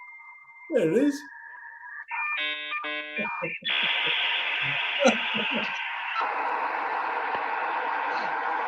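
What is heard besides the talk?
dial-up internet connection dialing sound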